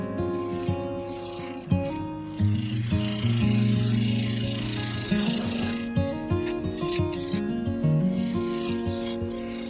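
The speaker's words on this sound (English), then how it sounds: "With the blank uncovered, I switched to a 3/8 bowl gouge" A 3/8 bowl gouge cuts into a spinning cherry wood bowl blank on a lathe, giving a steady rubbing, rasping scrape over the lathe's constant hum, with repeated cuts and no voices.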